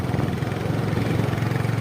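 A motorcycle ridden at full speed gives a steady, close engine drone with a fast, even pulsing rumble and no break.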